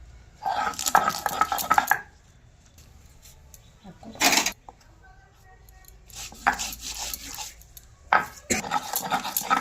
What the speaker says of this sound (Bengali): এবার এটা আমি পাটাতে বেটে নেব।